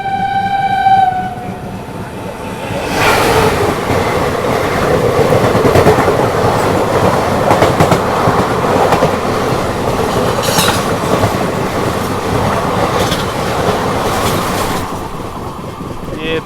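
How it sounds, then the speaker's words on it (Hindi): A Gandhinagar–Jammu Tawi Express passes close by on a rainy evening. A brief horn blast opens, then a loud, steady rumble and clatter of rolling coaches runs throughout. "ये थी अपनी गांधीनगर जम्मू तवी एक्सप्रेस।"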